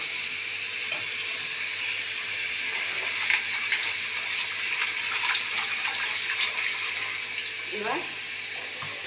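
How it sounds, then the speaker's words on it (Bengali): Water poured into a pan of frying spices while cooking fish head curry, a steady rushing hiss with sizzling throughout, louder bursts near the end, no talk. "জল দিয়ে দেবো। যাতে মশলাটা পুড়ে না যায়।"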